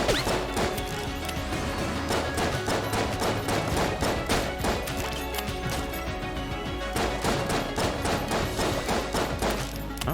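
Frantic gunfire in Enter the Gungeon, a dense, relentless hail of rapid shots and crashing impacts that keeps up loudly and evenly for about ten seconds, with no talking over it.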